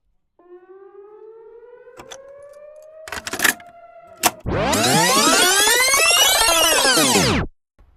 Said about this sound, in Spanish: Atención, este video incluye el sonido de una sirena.